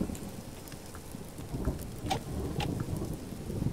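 Steady rain with rolling thunder during a storm in the survival video game Subsistence, a continuous wash of rainfall with low rumbles and a few brighter cracks throughout, no voices.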